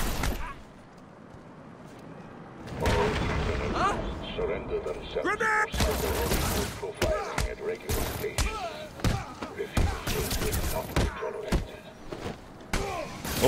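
Enemy thugs fire guns in Batman Arkham City, with sharp, irregular shots and thumps of combat cracking through a busy game scene while someone talks excitedly over the action.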